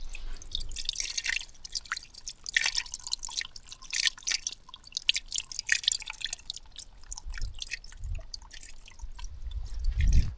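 Water drains from an excavated stormwater infiltration bed beside a garage, a continuous close trickle and patter of drips with small gurgles and a low rumble building toward the end.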